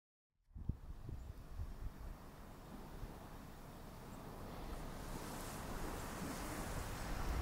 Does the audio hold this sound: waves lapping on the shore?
yes